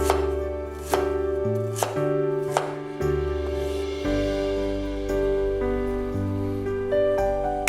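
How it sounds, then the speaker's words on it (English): A knife chops fresh ginger into pieces on a board, giving a series of sharp, close, evenly spaced strikes with no talk, part of cooking a sour spicy fish dish. "We cut fresh ginger into pieces now."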